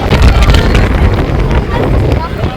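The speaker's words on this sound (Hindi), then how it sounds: "अब देखो यहाँ कितनी हवा चल रही है, बहुत ही ठंडी ठंडी हवा" Strong, cold wind by the Alaknanda river near Badrinath roars hard across the microphone in a loud, continuous rush of gusting noise.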